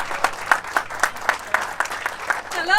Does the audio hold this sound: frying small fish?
no